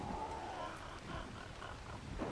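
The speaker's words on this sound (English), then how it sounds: "I really am concerned about the thunder being way too loud." Rain falls outside during a thunderstorm, making a faint, steady hiss with a soft low rumble under it, heard quietly from indoors.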